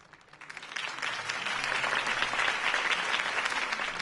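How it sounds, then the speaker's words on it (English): In Batman: The Telltale Series, a crowd at a campaign rally bursts into applause that swells over the first second and then holds as steady, dense clapping, heard fairly faintly and without voices. "could have heard that applause"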